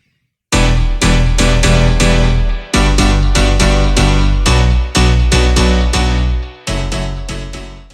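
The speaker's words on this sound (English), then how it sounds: "I started off with some really nice piano house chords that sound like this." Piano house chord stabs from an M1 piano stacked with a Nexus layer, a sustained chord progression changing in rhythmic blocks about every second, loud and full, with no voices.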